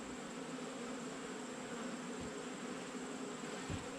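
A dense mass of honey bees buzzes around a heavy, honey-filled medium hive box, a continuous loud drone with no talk.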